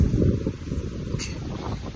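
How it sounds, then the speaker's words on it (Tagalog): Strong mountain wind buffets the microphone in a steady, low, roaring rush, loud and close, with a brief airy gust near the middle. "yung hangin malakas"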